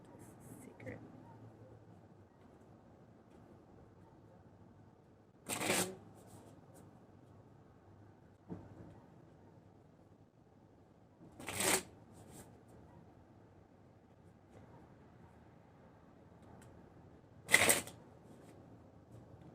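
Three short bursts of cards being shuffled, spaced several seconds apart, against quiet room tone.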